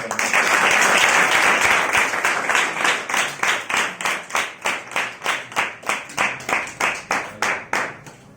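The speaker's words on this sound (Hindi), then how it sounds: "ताली मारवा" Audience members at a youth meeting clap, starting as a dense burst of applause and settling into slow, regular rhythmic claps in unison, each hit loud and distinct.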